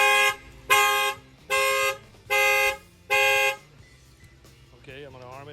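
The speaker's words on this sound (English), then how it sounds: "The alarm's going to fire off." Alarm on a 2021 Lexus IS 350, triggered by a shock sensor, sounds five loud evenly spaced horn blasts nearby, followed by a faint voice after the honking stops.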